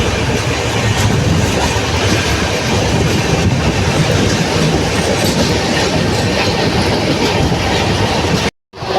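A Janshatabdi Express running from New Guntur toward Chennai rumbles along the rails at reduced speed, heard as a loud, steady roar with rhythmic wheel clatter, cutting out abruptly near the end.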